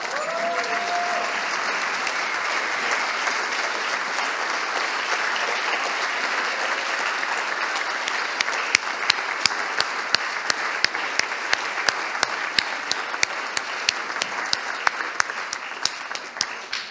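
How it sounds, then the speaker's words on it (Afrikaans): Sustained applause from a school audience giving a standing ovation, dense and steady clapping that fills the space for its whole length with no talk over it, with sharper individual claps standing out toward the end. "Ek dink ons kan 'n staande applous vir twee uitsonderlike leiers gee."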